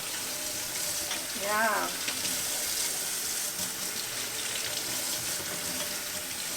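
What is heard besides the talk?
tap running while washing celery sticks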